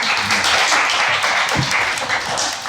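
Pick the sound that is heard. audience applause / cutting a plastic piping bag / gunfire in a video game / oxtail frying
audience applause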